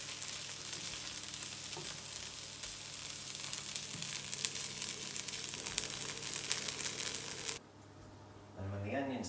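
Onions fry in a pan with a dense, constant hiss and crackle for several seconds. The sizzle then drops away sharply and a few faint clinks follow.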